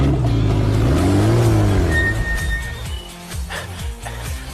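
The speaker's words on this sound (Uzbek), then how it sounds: "Unda mashinani turargohga qo'yib tur." A car engine revs loudly up and down close by as the car is driven into a parking spot, then drops to a rough, uneven idle.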